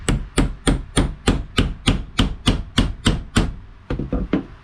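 Steady hammer blows on a mini pry bar, seating a metal engine seal ring for a 7M rear main seal, about thirteen sharp metallic knocks in an even rhythm, close and with no talking.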